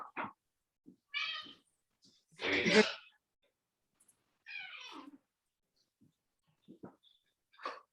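A domestic cat meows in a few short, close calls separated by quiet gaps, with one brief spoken phrase in between.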